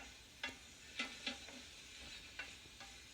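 Casserole ingredients with chorizo and spinach being stirred together in a dish, a few soft scraping and clattering strokes spaced irregularly against a low background hiss.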